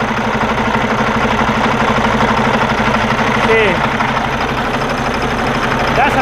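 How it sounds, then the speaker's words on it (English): A cold Cummins X15 diesel truck engine idles, its steady low rumble and rhythmic knocking pulse continuing close by and unbroken, with someone speaking over it. "So the engine runs fine."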